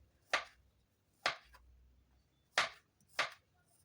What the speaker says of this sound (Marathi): आता ही बोरं अशा पद्धतीने आपण सगळी कापून घेणार आहोत